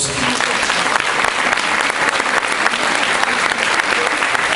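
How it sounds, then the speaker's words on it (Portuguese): A large audience at a kizomba dance gala in Óbidos breaks into dense, sustained applause, a loud continuous wash of many hands clapping with faint crowd murmur underneath. "Posso pedir um aplauso, por favor?"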